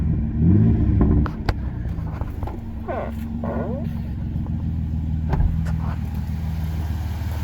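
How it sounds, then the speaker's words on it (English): A Suzuki H25A 2.5L V6 car engine with new timing chains runs steadily with a low, even rumble close by, briefly revving early on while a voice speaks over it. "she sounds really good now"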